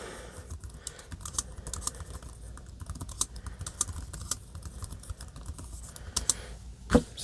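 Someone types at a steady pace on the keyboard of a Fire Max 11 tablet, with crisp, close clicks and a louder tap near the end, in a quiet room.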